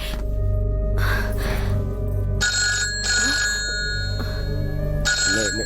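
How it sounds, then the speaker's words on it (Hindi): A telephone bell rings in repeated bursts at close range inside a home, each ring a sustained electronic trill separated by short pauses, with a steady low hum underneath and no talk. "भाई साहब का फोन आया है"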